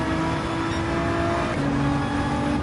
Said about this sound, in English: we get to use the engine braking there to help also slow down the